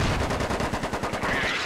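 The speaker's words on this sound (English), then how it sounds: "Ooh, mortars inbound." An incoming mortar volley in the video game Squad lands as a rapid string of heavy, booming impacts, loud and dense for under two seconds with no voices over it.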